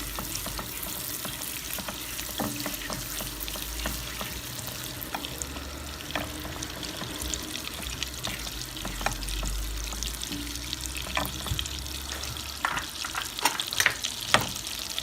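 Carrots frying in oil for a chicken noodle soup, a constant crackling sizzle with frequent stirring scrapes and clicks, close and steady, growing a little busier toward the end.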